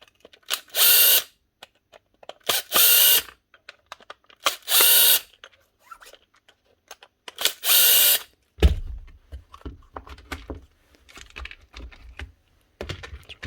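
A Hikoki DV 18 DGL cordless drill with a stripped gear is taken apart: several loud bursts of the DC motor spinning, then a low hum with scattered clicks and rattles of tools and parts.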